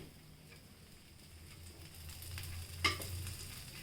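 Oats dosa frying on a pan with organic til oil sprinkled over it gives a soft, steady sizzle that swells slightly, with a sharp tick of a utensil near the end.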